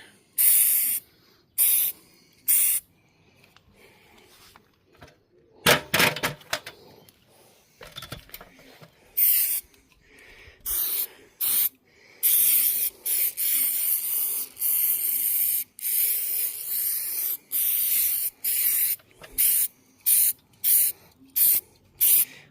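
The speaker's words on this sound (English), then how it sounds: "I think it pays just to give it a light spray, not to run too much, so it's going to sink in." Aerosol protection sealant is sprayed lightly onto a Saab 9-3 convertible in short, repeated hissing bursts of varying length, separated by quiet pauses, close and clear.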